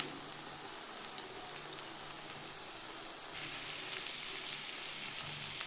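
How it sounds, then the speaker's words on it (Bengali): Small shrimp pakoras frying in oil over a low gas flame in a Bengali kitchen, a steady soft crackle and hiss with scattered pops throughout, quiet and continuous with no talk. "আগের মতো এগুলো সব ভেজে নেব"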